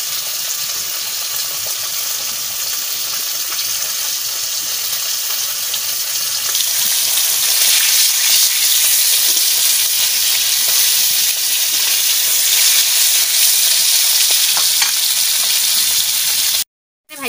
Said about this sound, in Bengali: ভেজে নিচ্ছি খাওয়ার জন্যই তো।